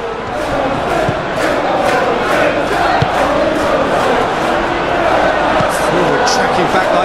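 A stadium crowd in a PES video game football match, Manchester United vs Arsenal, roars steadily in a dense, loud wash of cheering with a commentator talking over it.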